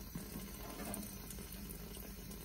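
Tap water runs steadily into a sink while laundry soap and a brush are wetted to work up suds, a continuous close hiss with no speech.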